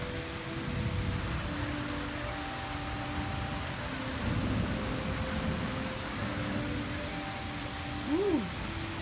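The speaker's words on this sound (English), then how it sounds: "And from here, thunder." Steady rain falls outdoors during a thunderstorm, a continuous hiss with low rumbling thunder rolling underneath and a brief tonal swoop near the end.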